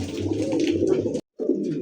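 Big, jet-black fancy pigeons at a pigeon sale coo steadily and fairly close, with a brief gap before the low cooing resumes.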